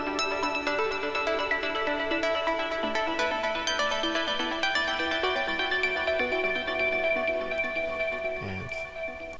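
An Omnisphere synth plays a standard arpeggio rhythm part, a steady run of bright, bell-like repeated notes that pulse evenly and loudly throughout with no voices, thinning slightly at the very end.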